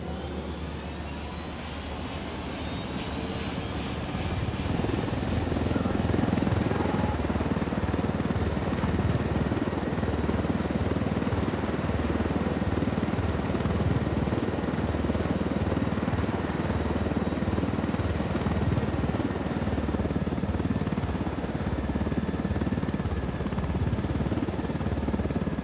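A helicopter flies in Ghost Recon Wildlands, its rotor and turbine roar building over the first few seconds and then holding loud and steady throughout, with no voices heard.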